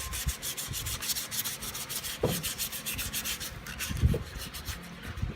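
A steering wheel is sanded by hand during a restoration, the abrasive rubbing close and continuous with steady back-and-forth strokes and no voices.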